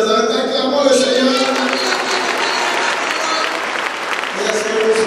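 A church congregation applauds the Lord during a Sunday service, loud sustained clapping and crowd noise filling the room with voices mixed in throughout.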